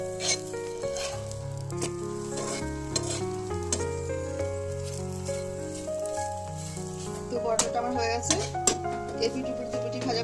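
A curd paratha fries on a hot tawa over a gas flame with a soft, low sizzle, heard close under light spatula and pan clinks and scraping, growing busier toward the end.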